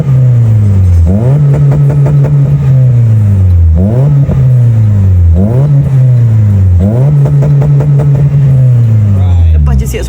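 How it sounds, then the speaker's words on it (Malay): A Perodua Myvi with a full-system aftermarket exhaust revs repeatedly, rising and falling in pitch with a deep, throaty exhaust note, loud and close, several blips in a row. "full system exhaust aku kali ni memang aku tak letak expectation bunyi dia kuat"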